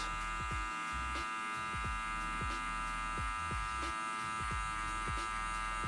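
Electric hair clippers with a guard running continuously while cutting hair for a low taper fade, a steady close buzzing hum with small rhythmic dips as the blade passes through hair, no talking.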